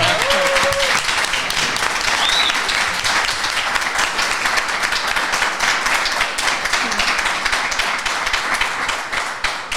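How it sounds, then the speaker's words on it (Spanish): A crowd applauds steadily and loudly throughout at a cycling media tenth-anniversary event, dense clapping with a brief whistle-like tone near the start. "Un aplauso de la gente. Y un aplauso."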